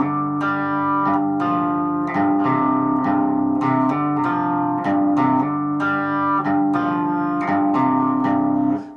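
Electric guitar slowly picking out a song's riff, played close and moderately loud with distinct repeated notes in an even rhythm and no talking.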